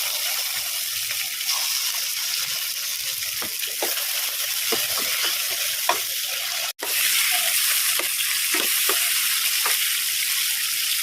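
Onions and tomatoes sauté in a pan for chicken sambar, a steady broadband sizzle with scattered scraping stir strokes and a brief sharp dropout midway, no talking.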